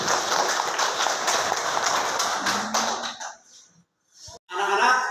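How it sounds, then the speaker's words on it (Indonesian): Classroom applause from a group of children, brisk clapping for about three seconds that stops abruptly, followed by a short pause and then a burst of voices. "Tepuk tangan."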